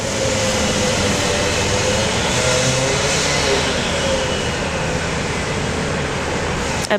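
An Aero Commander aircraft at Brisbane International Airport, its steady broadband engine roar loud and constant, seemingly fairly close, with no clear talking over it.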